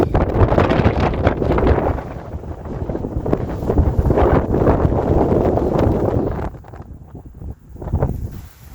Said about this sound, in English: Oh, the wind is picking up again.